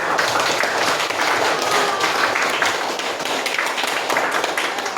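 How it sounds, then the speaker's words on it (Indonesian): A classroom of students claps for themselves, with dense, steady applause filling the whole stretch at an even, fairly close level. "Kita tepuk tangan dulu buat diri kita sendiri."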